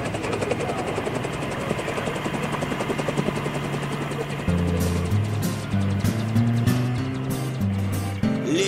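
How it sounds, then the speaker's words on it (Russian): Rescue service helicopters flying overhead above the frozen Gulf of Finland, a steady rotor and engine drone with a shifting pitch that grows louder partway through, no speech. "Летят по небу вертолеты МЧСа"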